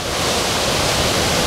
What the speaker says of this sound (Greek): με τα ορμητικά νερά να ανεβάζουν τα αποθέματα